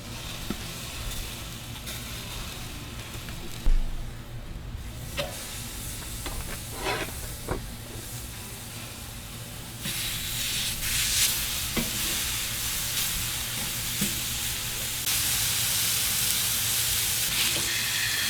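Burgers sizzling over a Weber grill fitted with a Ballistic griddle on one side and Craycort cast iron grates on the other, a continuous close hiss with scattered pops and crackles that grows louder and denser in the later part.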